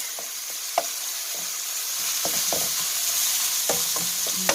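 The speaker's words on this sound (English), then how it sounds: "I'm just going to get this hamburger nice and cooked and brown up" A pound of ground beef sizzles as it browns in a pan on the stove, a constant bright hiss broken by scattered scrapes and taps of a utensil stirring the meat.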